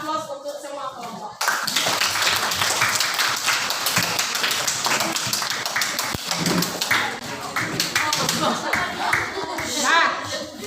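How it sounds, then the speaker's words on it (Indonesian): Classroom applause for all the discussion groups, a sustained burst of many hands clapping that begins abruptly and continues steadily, with voices mixed in underneath. "Kita berikan aplaus untuk semua kelompok."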